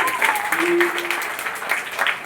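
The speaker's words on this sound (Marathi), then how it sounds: "सर्वांनी जोरदार टाळ्या वाजवून कौतुक केलं पाहिजे" An audience claps at a school Disability Day celebration, a steady wash of applause with voices over it.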